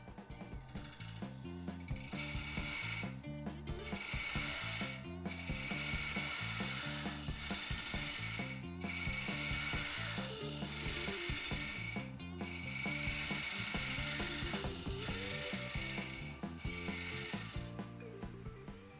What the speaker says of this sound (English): Got the whole thing sanded now, inside and out.